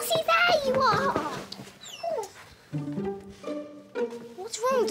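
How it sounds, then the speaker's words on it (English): A cartoon dog that is feeling unwell whimpers and whines in short high rising and falling cries, close and clear, with a voice and other speech mixed in around it. "What's wrong, doggy? Aren't you feeling very well, Mossy?"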